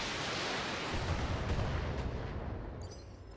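Mech weapons fire in the video game BattleTech as a dense, roaring barrage of blasts that rumbles steadily for a few seconds and then fades slightly.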